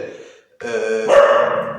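A young female dog barks at her own reflection in window glass, giving a short yip and then two loud, close, sustained barks one after another, with no talk.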